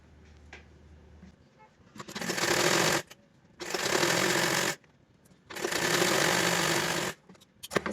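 A sewing machine stitching a plain frock runs in three fast, whirring bursts of about a second each, separated by short pauses and fabric handling, close and loud in a quiet room.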